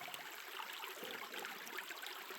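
Faint water trickles and washes steadily through a gold panning sluice set in a pan, a soft continuous rinse with no voices.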